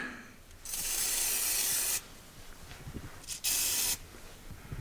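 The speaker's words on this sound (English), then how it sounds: "now I'm gonna go ahead and just hit it with my Teflon lube here" Teflon lube sprays onto the shifter of a Toyota Tacoma or 4Runner with a sticky shifter in two bursts: a longer hiss of over a second, a pause with faint rattling handling noises, then a second shorter spray.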